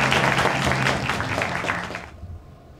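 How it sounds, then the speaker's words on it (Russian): An audience at the opening of a festival of actors' monologues in Sevastopol applauds in a lively burst with audible individual claps, then the sound cuts off abruptly into near silence. "Аплодисменты!"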